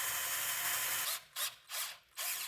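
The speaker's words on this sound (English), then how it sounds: "I'm going to try to drill into it and see what happens." A power drill bores into a suspension rivet on a 1994 Chevy K1500 front end, a close steady whine that then stutters into three short bursts with pauses between.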